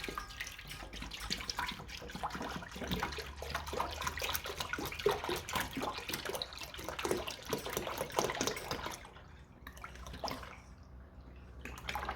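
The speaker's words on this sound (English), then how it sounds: "we take our pot and we put both lots of milk in" Milk poured into a cooking pot while making Maltese fresh gbejniet cheese, a continuous splashing liquid stream for about nine seconds that then tapers off to quieter trickles and near silence.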